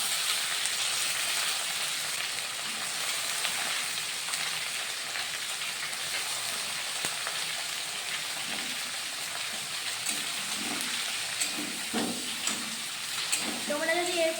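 Onions fry in a pan for chicken kasa with a steady, hissing sizzle throughout and a few soft stirring clinks near the end. The sound is close and even, and no one speaks.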